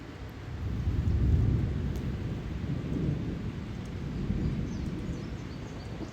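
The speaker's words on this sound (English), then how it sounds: "a storm rolled in. Broke the heat. Listen to that thunder." Summer thunderstorm rolling in after a heat wave, deep rumbling thunder swelling and fading in long low rolls over a soft hiss of rain, somewhat distant and with no voices.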